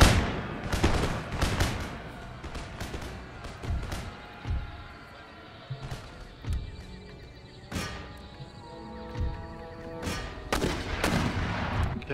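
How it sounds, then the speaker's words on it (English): Mortars firing in an Empire: Total War battle, a series of heavy booming blasts in irregular bursts, some clustered close together, with rumbling between shots and no clear talk. "folks firing those mortars."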